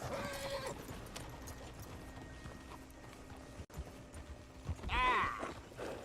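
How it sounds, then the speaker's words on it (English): Horses in Red Dead Redemption 2 clip-clop along with creaking tack, and one horse gives a loud, close whinny near the end; hooves run steadily under faint background ambience. "Get a hold of that horse, will you?"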